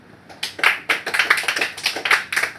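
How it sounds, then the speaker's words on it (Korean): Classroom applause for a student in a middle school math lesson, a short burst of a few pupils clapping close by, sharp irregular claps fading in and continuing unevenly. "정현수 박수."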